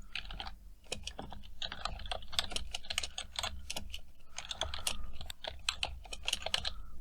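Rapid clattering keystrokes on a computer keyboard while C++ code is typed, a steady run of close, crisp taps with brief pauses between bursts.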